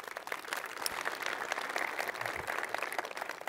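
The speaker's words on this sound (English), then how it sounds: "big round of applause to you guys" Conference audience at a keynote applauds in a large hall, a steady dense patter of many hands clapping at a distance for several seconds.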